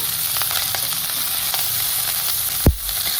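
Curry leaves and crushed ginger frying in hot oil, a dense continuous sizzle and hiss heard up close, broken near the end by a single dull thump.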